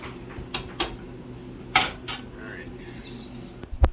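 A whisk stirs sugar into warm corn mash in a pot, giving scattered metallic clicks and scrapes against the vessel over a low steady background hum, with no talk.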